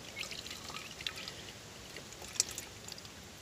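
Water is poured out for chickens on a farm, a soft, continuous trickling pour with a few small splashes and no talking.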